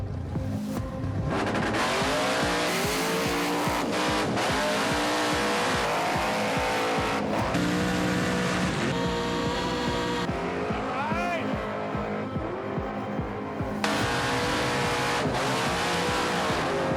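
A 1955 Chevrolet drag car fitted with a slipper clutch roars down a drag strip, its loud engine droning and rising in pitch through gear changes. A commentator talks over it throughout.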